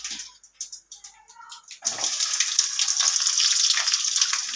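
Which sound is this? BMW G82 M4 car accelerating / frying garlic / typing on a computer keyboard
frying garlic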